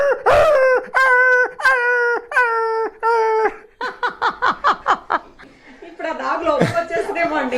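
A mimicry artist's voice imitates a dog yelping as it is struck with a stick: a run of loud, sharp, high-pitched yelps, then a burst of quick, shorter cries and a final whimpering wail.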